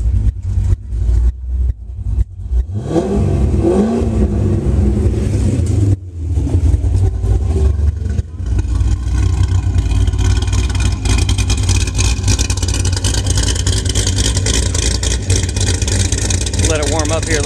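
A 2009 Corvette Z06 with aftermarket heads and cam idles from a cold start, its loud lumpy rumble steady and close throughout with a few sharper revs early on, and a voice talking over it at times.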